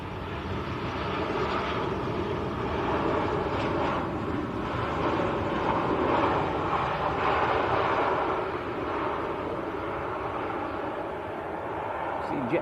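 EasyJet airliner from Amsterdam at Manchester Airport, a steady broadband jet engine roar holding for several seconds, with people talking over it throughout.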